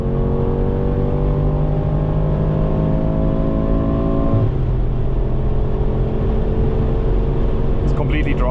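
A Mercedes G63 AMG V8 pulls hard at full throttle on an Autobahn, a loud steady rising engine drone heard from inside with wind and road noise, shifting tone midway as a gear changes.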